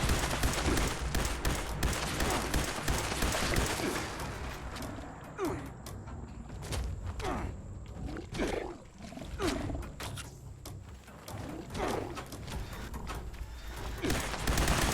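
Gunfire in the video game Fallout 76: a dense stretch of rapid shots in the first few seconds, then scattered single reports and short bursts over a steady game-sound bed.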